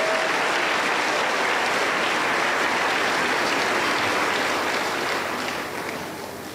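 A church congregation at a Pentecostal anniversary service in Huancayo claps steadily in a full, sustained round of applause that fades slightly near the end.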